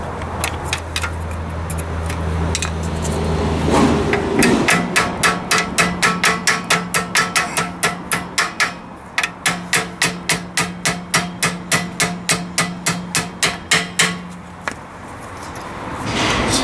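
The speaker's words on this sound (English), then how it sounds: "Just going to drive these pins out." A hammer drives the rear brake caliper pins out of a 1993 Volvo 240, sounding as a long run of sharp, evenly spaced metallic strikes, loud and close, with a brief pause partway through.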